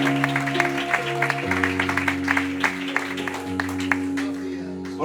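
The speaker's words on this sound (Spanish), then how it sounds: "Dar un fuerte aplauso al Señor." Congregation applause at a church service, scattered overlapping claps running steadily for about five seconds over sustained keyboard or organ chords.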